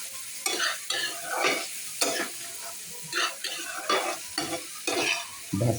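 Dried loitta fish and chopped potatoes fry in a pan, with steady sizzling broken by repeated stirring scrapes every second or so, close and moderately loud, with no talking.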